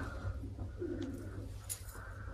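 Soft, low cooing from pigeons, quiet and close, with faint rustling and a brief higher chirp.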